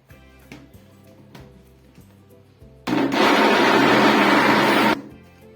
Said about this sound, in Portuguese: Colocamos a metade da cenoura e vamos bater.